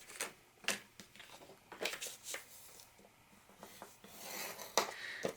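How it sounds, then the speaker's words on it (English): Paper pieces being scored on a scoreboard for a craft album, soft scraping and rubbing strokes with light taps, faint and close, irregular in rhythm with no talk. "Those 2 A pieces, we're going to score each of those at half on the 6-inch side."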